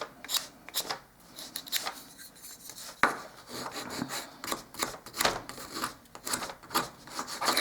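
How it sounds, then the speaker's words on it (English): Sandpaper rubs by hand across the end grain of a wooden hall table in quick, uneven rasping strokes, close and moderately quiet, with a sharp knock partway through. "on the end of this, we have to sand across just to get our line established again"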